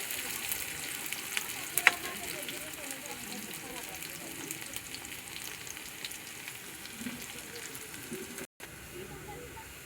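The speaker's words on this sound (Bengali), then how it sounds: "পেঁয়াজগুলো সুন্দর করে লাল লাল করে ভাজিয়ে নেব আমি" Onions frying in a pan give a faint, soft sizzle and hiss, low in level and continuous, with a brief clink near the start.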